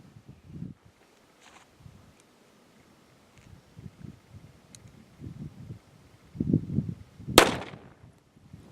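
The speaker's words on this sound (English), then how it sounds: "Getting ready to shoot CCI Stinger through a Walther P22." Sharp, faint reports from a Walther P22 pistol firing CCI Stinger .22 LR rounds: a few scattered cracks with quiet gaps and rustling, then a louder cluster near the end capped by one crisp shot.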